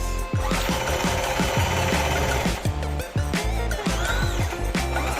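A sewing machine stitches a sleeve cuff, its needle running in a fast, rhythmic mechanical chatter with brief pauses and restarts, loud and close with no voices.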